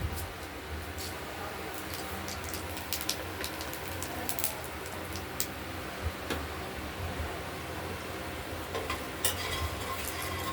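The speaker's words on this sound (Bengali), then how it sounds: "এবার শুকনো লঙ্কা কালো জিরে এলাচ দারচিনি আর কালো জিরে ফোড়ন দেবো" Dried red chilies, nigella seeds, cardamom and cinnamon sputter in hot oil as a tempering for a Bengali katla fish curry, a steady crackling sizzle with occasional sharp pops and utensil clicks, no talking.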